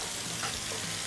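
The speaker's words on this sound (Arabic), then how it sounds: "الزيت كده هو سخن عندي، هبتدي احمر البصل" Onions frying in hot oil for Egyptian koshari, a dense, even sizzle and crackle that fills the short moment, close and steady with no voices.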